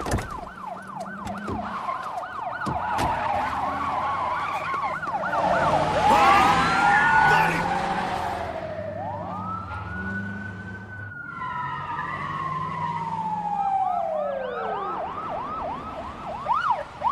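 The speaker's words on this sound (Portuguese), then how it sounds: "Já era, estou ouvindo as sirenes." Several police sirens wail and whoop in a movie action scene, overlapping rising and falling tones that swell loud and then sweep past, layered over a tense background score.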